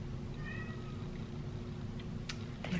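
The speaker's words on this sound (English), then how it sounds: "look, my kitty wants in" A house cat meows to be let inside, a couple of short, faint mews at a distance over a steady indoor room hum.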